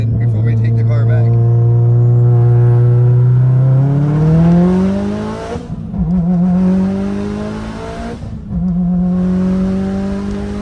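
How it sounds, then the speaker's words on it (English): Mitsubishi Evo accelerating hard, heard from close range: the engine's loud, rising roar climbs steadily in pitch, drops sharply at two gear changes, then pulls up again. "I love the feeling of when the car puts you back in your seat."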